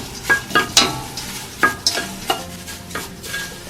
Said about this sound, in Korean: 이렇게 파스락파스락 소리가 나기 시작하면 소금을 조금씩 넣어가면서 볶아주세요.